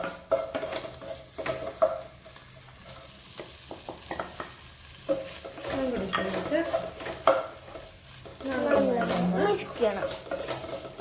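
Boneless chicken and egg stir-frying over a high flame for kothu parotta, a steady sizzle broken by repeated scraping and clanking of a utensil against the pan, loud and close, with a voice talking at times.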